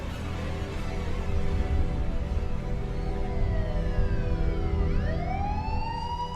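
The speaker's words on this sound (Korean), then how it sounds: "구세주 같은 경찰차 사이렌 소리." A police car siren wails loudly and continuously over heavy low rumble, its rising and falling tone sweeping clearly near the end. No one speaks.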